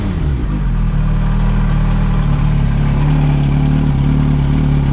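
A Yamaha R1 motorcycle engine running steadily after fuel pump work, a loud, even low rumble held close throughout with no throttle blips and no voices.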